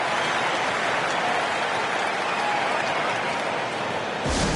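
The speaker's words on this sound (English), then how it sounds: "Fans, please give a big round of applause." Simulated arena crowd in the NBA 2K23 basketball game applauds during a timeout in a Heat vs. Hawks matchup, a dense, steady wash of clapping and cheering that holds loud and even throughout with no talk.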